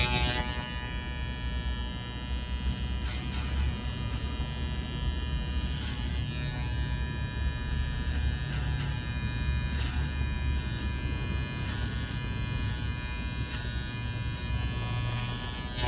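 Electric hair clippers buzzing steadily while cutting and edging a short American-style men's haircut, a close, continuous hum with slight changes in pitch as the blade moves through the hair, no talk.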